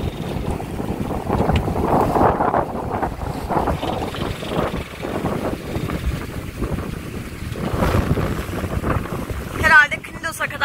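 A sailboat running on its main sail alone, with no engine, in a strong 18-20 knot wind: steady roaring wind buffeting the microphone and rushing water along the hull, loud and continuous.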